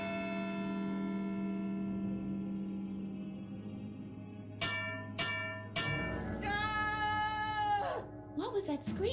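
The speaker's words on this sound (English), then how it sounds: "I'm gonna hit the bell again" Ringing strikes on a bell in the point-and-click game Edna & Harvey: The Breakout, with a long sustained tone decaying at first, then several sharp struck hits and a brighter clang near the end, mixed with other game audio.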